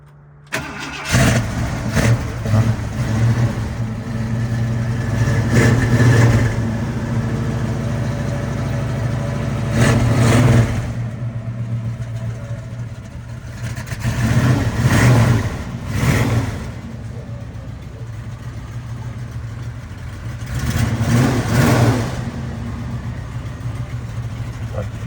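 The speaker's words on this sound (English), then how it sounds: "this is a cold start" A 1979 baby blue Ford Bronco, left sitting about five days, cranks and fires from cold, then idles roughly with a steady low engine tone while being revved in several loud bursts, no talking over it.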